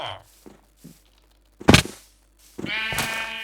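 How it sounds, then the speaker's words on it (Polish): Sheep bleating in Minecraft, a couple of short, close baas with soft thuds and footsteps between them, ending in a longer, wavering bleat. "O, owce są."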